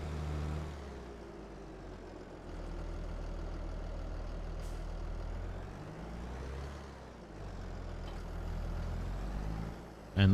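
Tractor engine idling in Farming Simulator 22, a steady, low, continuous rumble held close at an even level for the full stretch, with slight dips in loudness and no speech.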